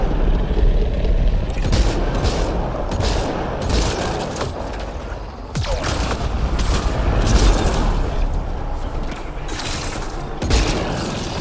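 A shotgun fires repeatedly in a Mass Effect Andromeda battle, sharp loud blasts at irregular intervals over a constant rumble of combat noise and other gunfire.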